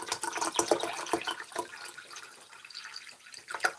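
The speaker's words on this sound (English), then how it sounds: "Maybe you want to hear me pouring water?" Water pours in a continuous trickling, splashing stream with uneven gurgles, close and moderately loud, with no talk over it.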